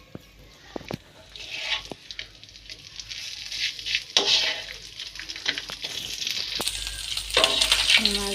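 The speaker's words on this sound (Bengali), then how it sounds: "মাছগুলো প্রায় ভাজা হচ্ছে" Puti fish sizzling in hot oil after being flipped, a constant close crackle with scattered utensil clicks and scrapes, the frying growing louder and denser toward the end.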